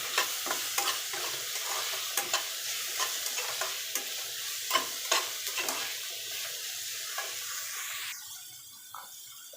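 Onion, ginger and garlic frying in a pan, a soft steady sizzle broken by repeated stirring clicks and scrapes, fading slightly toward the end.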